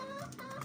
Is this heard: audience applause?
no